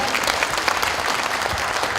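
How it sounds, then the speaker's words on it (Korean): An audience applauds a National Assembly member at a legislative activity report meeting. The clapping is a dense, steady ovation that stays even and loud throughout. "서동영 국회의원님께 다시 한번 큰 박수 한번 부탁드리겠습니다"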